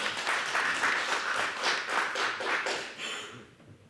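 A crowd at a village seodang festival applauds to welcome a Buddhist monk as he steps up to speak, a dense burst of many hands clapping together that holds steady, then fades out over the last moment.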